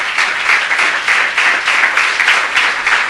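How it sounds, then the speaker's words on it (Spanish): A church congregation applauds steadily, a dense loud wash of many hands clapping together throughout, without speech. "Dele palmas al Señor."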